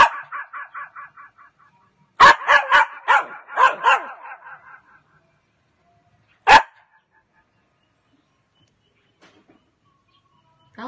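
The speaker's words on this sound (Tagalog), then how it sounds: "Tahol, tahol. Tahol ulit." A small dog yaps out a quick series of sharp barks, then a second louder burst, followed by a single bark after a pause, close and clear against otherwise quiet surroundings.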